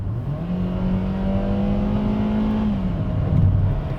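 A car with a torque converter automatic transmission accelerates under throttle and downshifts, its engine note rising and holding steady before dropping, loud and close with no talking.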